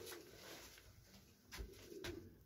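Racing pigeons in the cock compartment of a flight loft coo softly in low, throaty bursts, a few near calls over quiet background hum.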